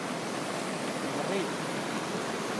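Turbulent water rushing hard at El Infiernillo in El Salvador, a steady broadband roar that stays loud and unbroken from start to finish.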